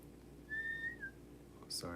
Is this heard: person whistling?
yes